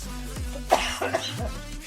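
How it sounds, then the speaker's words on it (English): A few short, harsh coughs sound close by, with throat clearing between them. "I'm try not to cough while I'm talking."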